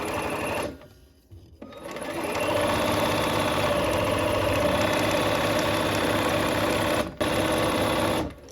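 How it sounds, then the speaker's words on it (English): A sewing machine stitching quilt fabric, running in a fast steady whir after a brief start, pausing twice briefly, close with no talk. "let's go ahead and sew"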